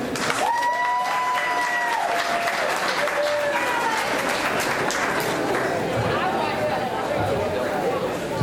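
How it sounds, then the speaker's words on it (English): An audience at a Labor Day county GOP event applauds political candidates and office holders. The clapping is steady and dense throughout, with crowd chatter and a voice heard over it early on. "One more round of applause for their office holders and candidates."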